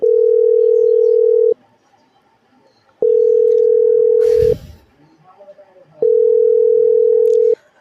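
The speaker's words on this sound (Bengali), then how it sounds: "অসীমদাকে একবার ফোন করি।" A telephone dial tone sounds while a call is being placed, in three loud, steady tone bursts of about a second and a half each, separated by gaps, with a brief rustling noise in the second gap.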